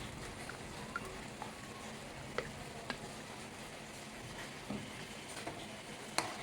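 Homemade tomato pizza sauce with Kashmiri chili powder stirred in a pan, a soft steady sizzle with occasional faint scrapes and taps of the spoon, quiet and continuous.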